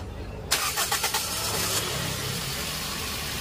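A Toyota Vios that had been hard starting cranks briefly and fires on the first try, a few quick starter chugs catching into a steady close idle.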